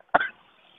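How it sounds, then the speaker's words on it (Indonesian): One short, sharp cough from a motorcycle rider with the helmet visor open, sitting close to the microphone and alone against quiet, trailing off into faint hiss. "batuk."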